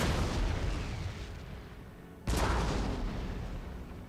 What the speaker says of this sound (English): under artillery fire, so that's definitely shaking them